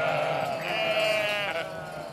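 A sheep bleats in one long, wavering call, loud and close, with no other animals or voices audible.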